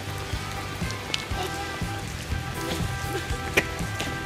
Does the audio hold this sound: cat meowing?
no